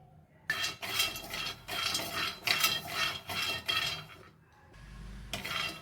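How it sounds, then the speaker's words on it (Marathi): Almonds roasting in a pan and being stirred with a metal utensil, giving repeated close scraping and clinking bursts in an uneven rhythm, a short pause near the end, then more stirring. "सगळ्यात आधी मी बदाम घालणार आहे बदाम भाजायला थोडासा जास्त वेळ लागतो"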